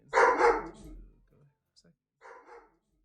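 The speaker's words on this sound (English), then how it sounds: "Oh, dog is loud." A dog gives a loud burst of close barks, then falls quiet before a second, softer bark follows a moment later.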